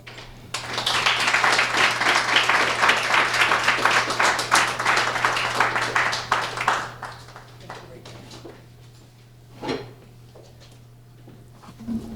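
Sustained audience applause at an awards ceremony honoring local women, dense clapping for about six seconds before thinning to scattered claps and a few faint voices.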